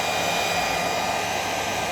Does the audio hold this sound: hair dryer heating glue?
yes